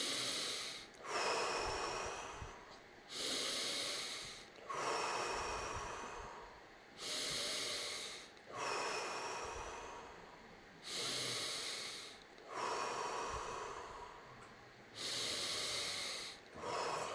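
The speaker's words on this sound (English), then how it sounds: "Keep on breathing." Deep, forceful breaths during a guided breathing exercise, about eight regular cycles of loud, close rushing inhales and exhales with brief pauses between them.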